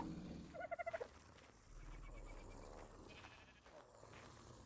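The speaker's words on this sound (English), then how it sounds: "A bunch of sheep up here, and they're, you know, collecting things for eggs so they can make kibbles and stuff." Sheep bleat in the ARK survival video game, a quick run of several wavering calls near the start, followed by steady ambient game noise with faint creature sounds.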